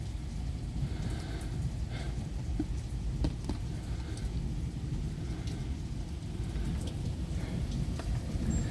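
Heavy, steady rain pours down during a severe Michigan thunderstorm, a dense continuous hiss with faint low rumbles of thunder underneath; no voices.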